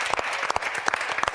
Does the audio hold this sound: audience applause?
yes